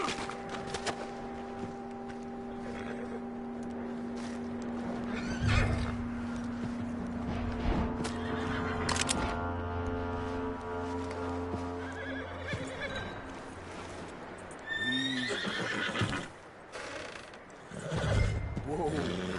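A horse in Red Dead Redemption 2 whinnying and snorting, with hooves clip-clopping and tack rattling under a low game soundscape, close and moderately loud, with a few scattered louder whinnies.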